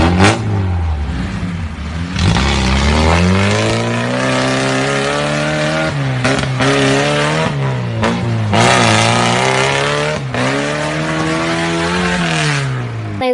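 Off-road vehicle engine revving hard over and over at a garden worksite, rising and falling pitch loud and close, with no talking.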